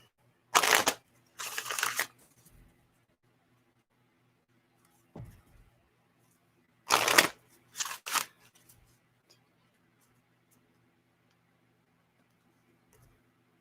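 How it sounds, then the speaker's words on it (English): Cards being shuffled in several short, crisp riffling bursts separated by quiet pauses, close and intimate, with faint small handling clicks in between. "Shuffle, shuffle, shuffle."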